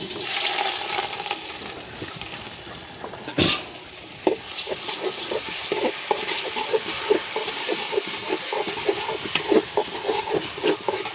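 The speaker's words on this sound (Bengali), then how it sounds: "এবার আমি চালগুলো ভেজে নেওয়ার জন্য পরিমাণ মতো তেল দিয়ে দিলাম।" Rice grains frying in hot oil in a pot for chicken biryani, a steady sizzling hiss with repeated scraping and stirring knocks, close and moderately loud throughout, no talk.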